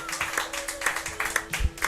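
A small group in a garage at a live-streamed show giving brief, scattered applause, a few people clapping irregularly at moderate distance, fairly faint.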